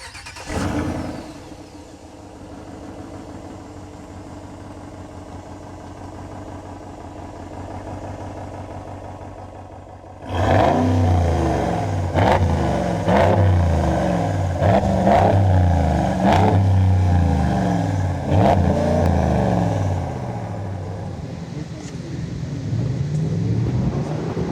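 A 2026 Ram 1500 Limited HEMI V8 pickup engine cranks and catches at about ten seconds, then revs repeatedly in loud bursts before settling into a rough, rumbling idle.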